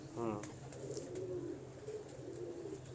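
Domestic pigeons coo softly in a loft, a low warbling roll with a brief high flutter near the start, set against steady room ambience while faint background chatter continues.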